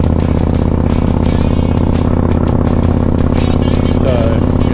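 A motorcycle cruising at about 90 km/h, steady loud engine drone with constant wind rush, unchanging throughout as heard from the rider's position.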